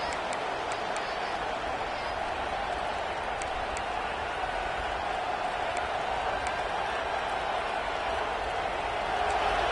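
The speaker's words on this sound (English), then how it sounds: "this crowd coming to life here, trying to help the defense get a stop" A football stadium crowd keeps up a continuous, even roar for nearly ten seconds, with a commentator's voice running over the noise.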